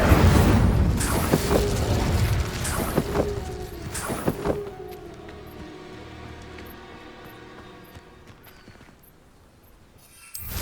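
The Incendio fire spell is cast in the video game Hogwarts Legacy, with a few sharp blasts and crackling bursts at the start that give way to a quieter fading rumble.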